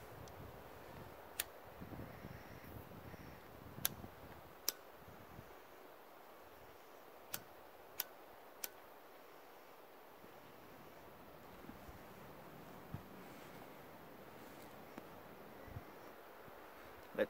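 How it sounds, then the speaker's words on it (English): Gusty wind buffets the microphone with low rumbling and roaring, easing off midway, while a few sharp ticks and clicks punctuate the background. "It's a little windy here."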